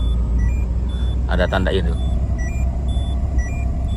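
A car's warning buzzer chimes in short, evenly spaced electronic beeps while a person briefly speaks over it, with a low engine hum underneath.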